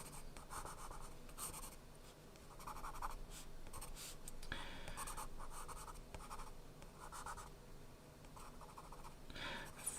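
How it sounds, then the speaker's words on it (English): A pen drawing on paper, close soft scratchy strokes in short repeated bursts with brief pauses between them. "Then I'm drawing the tent again."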